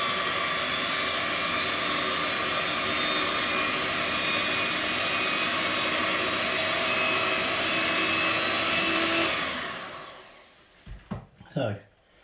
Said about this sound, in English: I'm just going to very slowly start whisking this up